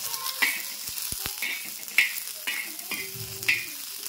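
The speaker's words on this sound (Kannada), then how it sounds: "ಮೆಣಸಿನ್ಕಾಯಿ ಒಂದು ಸ್ವಲ್ಪ ಎಣ್ಣೆ ಹಚ್ಚಿ ಹುರಿದ್ಬಿಟ್ಟು ತೊಗೋತೀನಿ ರೀ" Green chillies roasting in a pan with a little oil, a gentle ongoing sizzle punctuated by a few spatula scrapes and light taps against the pan.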